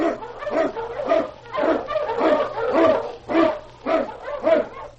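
An Eskimo lead sled dog barks in a rapid, rhythmic series of close, loud yelps and bow-wows, with a low hum running underneath.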